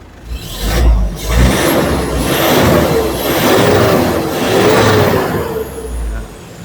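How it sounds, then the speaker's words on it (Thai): A 2010 Toyota Hilux Vigo Prerunner Smart Cab with a 2.5 engine and a replaced muffler revs loudly and steadily up close, its engine note rising and falling through several throttle blips with a faint whistle riding on top. "ฟังเสียงเครื่องยนต์นะครับผม"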